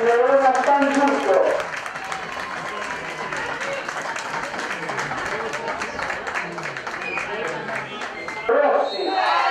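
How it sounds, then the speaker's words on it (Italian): Crowd applause and cheering welcome two youth football teams, Atletico Veronese and Verona San Giusto, onto the pitch at a winter cup tournament. Dense, steady clapping runs throughout, with an announcer's voice at the start and end. "accogliamo con un bel applauso le due squadre al ingresso in campo"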